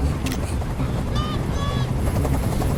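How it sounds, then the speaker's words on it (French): A helicopter hovers in Detroit: Become Human, its loud, steady rotor thrum filling the scene, with brief tonal electronic sounds on top. "Je peux plus supporter ce bruit. Fais dégager cet hélicoptère, maintenant."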